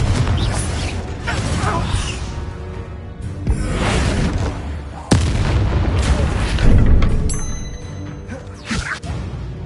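In the Hogwarts Legacy video game, repeated Bombarda explosion spells go off as a series of heavy booms mixed with whooshes and mechanical clatter, with one sharp blast standing out midway.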